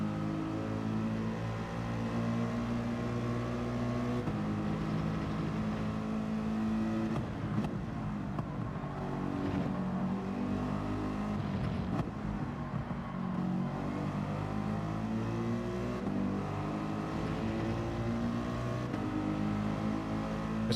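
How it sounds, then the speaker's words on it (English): Several Ferrari race cars in Gran Turismo 7 roar past in a steady, loud stream of high revving engine tones, with pitches rising and falling as each car goes by during a manufacturers race. "There's Ferraris coming through."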